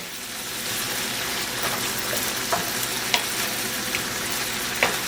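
Cajun shrimp pasta ingredients frying in a pan give a steady, close sizzle with occasional stirring clicks and scrapes throughout, no talking.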